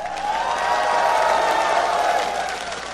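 A large esports crowd at LA Live in downtown Los Angeles cheers and applauds for Korean team Azubu Frost at a League of Legends Season 2 quarterfinal, a loud sustained roar that swells and holds throughout.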